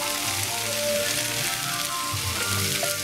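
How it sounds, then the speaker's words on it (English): Onions and potatoes sizzle steadily in a hot frying pan for a tofu scramble, a dense, continuous crackle close up with no talking. "That's really sizzling."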